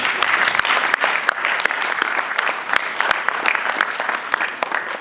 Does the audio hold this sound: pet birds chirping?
no